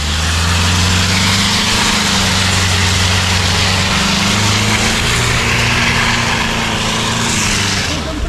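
A car stuck in autumn on summer tyres is loudly revved, its engine droning hard and steady at high revs for several seconds, with slight pitch shifts as the wheels struggle for grip.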